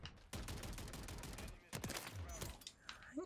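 Call of Duty Modern Warfare 3 gunfire in a headshots-only match, dense bursts of rapid shots rattling for over a second, then more volleys after a short pause, loud and close.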